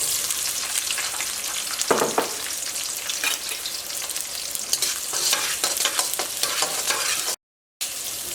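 Chopped onion sizzles steadily in hot oil in a pan, with scraping stirring strokes that come close and loud. The crackle drops out briefly near the end, then resumes.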